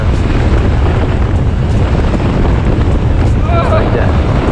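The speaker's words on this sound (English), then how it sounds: "So windy." Strong wind buffets the microphone in a steady, loud roar outdoors after a flash flood in New Jersey, with a brief voice near the end.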